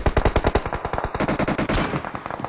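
Rapid automatic gunfire in the mobile battle-royale game PUBG Mobile, a loud, close string of about two dozen shots in quick rhythm with no talk.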